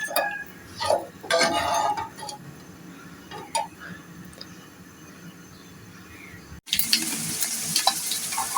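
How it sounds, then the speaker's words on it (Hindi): Semolina is stirred into boiling milk with cardamom in a pot, giving bursts of spoon scraping and clinks against the metal, then a steady bubbling simmer near the end, no voices. "और इसको मिक्स करें ताकि इसके अंदर गुठलियाँ से ना बने सूजी से"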